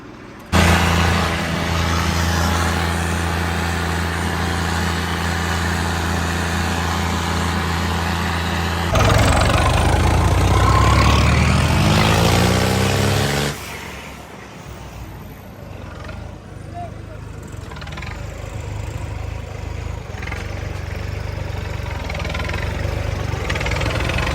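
A Sonalika RX tractor engine runs loudly with a steady diesel drone, then surges to a rougher, louder pitch for a few seconds before dropping to a quieter idle. Voices talk faintly in the background.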